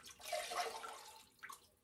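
Liquid glaze poured into the inside of an unfired greenware pottery mug, a soft, quiet splashing pour that trails off, with no talking.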